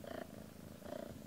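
Lil Bit, a little kitten, purrs softly and close in a quiet room, a faint steady rumble swelling in two gentle breaths.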